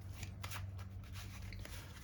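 Yu-Gi-Oh! trading cards being shuffled by hand, a steady close riffling and sliding patter over a low background hum, with no talking.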